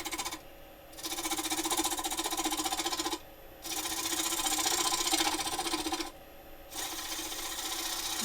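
A bowl gouge cuts wet holly on a wood lathe at steady speed, a continuous rasping, hissing scrape broken by two short pauses as the tool lifts off, close and fairly loud.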